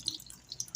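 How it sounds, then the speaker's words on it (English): Running water trickles and splashes from a tap, with a few brief louder splashes as a piece of fish is rinsed under the stream. "I'm just washing off my last piece of fish here."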